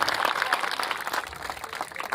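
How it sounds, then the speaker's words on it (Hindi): A large crowd at an outdoor village meeting against drug abuse, held in a field, claps loudly and steadily, a dense continuous roar of applause that stays strong throughout with no voices standing out. "जोरदार ताली है, ऐसे आवाज निकलनी चाहिए कि पूरा खेत गूंज जाए"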